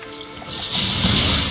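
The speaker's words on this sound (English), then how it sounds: "That water effects!" Water effects in the video game Ori and the Blind Forest: a broad splashing, rushing wash that swells after a quieter start and then holds loud and steady.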